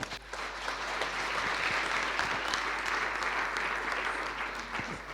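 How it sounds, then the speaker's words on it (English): Sustained audience applause at a talk-show chat event, a dense, steady wash of many hands clapping at moderate loudness from start to finish with no clear talk over it. "Let's give her a round of applause"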